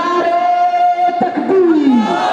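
A crowd at a religious gathering of Sunni scholars chants a slogan together in loud, sustained shouts, one drawn-out cry following another, with a voice leading them.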